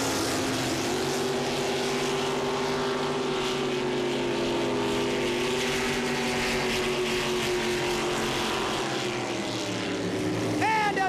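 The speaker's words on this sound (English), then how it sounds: "both boats are jet boats" Jet boats drag racing, a loud continuous engine roar with a slowly falling tone sweeping past, steady and close throughout, with a commentator faintly speaking underneath.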